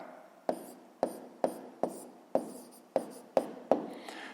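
A hand writes an answer for a sixth-grade maths exercise, eight or so evenly spaced crisp pen strokes on paper, close and quiet, with no talking.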